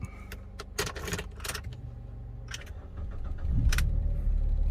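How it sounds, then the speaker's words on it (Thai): A Ford Focus started with a spare key, keys jangling loudly twice before the engine cranks and catches into a low steady idle, close by. "ใช้ดอกสำรองสตาร์ทนะครับ"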